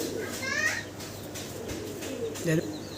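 Fancy pigeons at a pigeon sale coo softly in a short, busy stretch, with a low murmur of background noise throughout.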